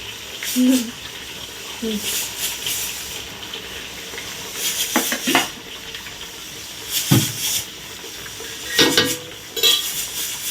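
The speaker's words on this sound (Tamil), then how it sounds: "இந்த வெங்காயம் வந்து நல்லா வதங்கணும்" Onions fry in hot oil in a pot for mutton biryani, a soft sizzle under several scraping stirs of a ladle, with someone speaking now and then.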